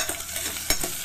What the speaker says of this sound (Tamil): இப்போ நம்ம இந்த கட் பண்ணி வச்சுக்கிற வெங்காயத்தை போட்டுடலாங்க